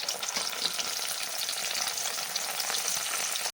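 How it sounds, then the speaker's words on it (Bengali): Chana dal lentils deep frying in hot oil give a loud, dense, continuous crackling sizzle up close, with no voices over it. "এবার ডালগুলোকে দিয়ে দেব অল্প অল্প ডাল দিয়ে ভেজে নেব"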